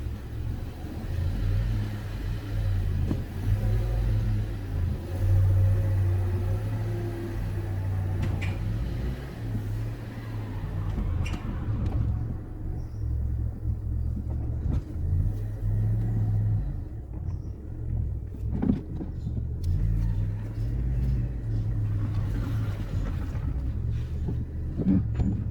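A car engine rumbles steadily at low pitch as the vehicle backs out of a garage, with a few faint clicks and shifts in load over the steady drone and no talking.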